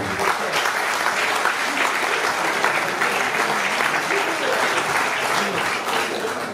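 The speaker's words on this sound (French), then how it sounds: "Sous vos applaudissements." An audience at the Château de Gilly applauds to welcome Fabien Canu, a steady, dense clatter of many hands held at an even level, somewhat distant, from start to finish.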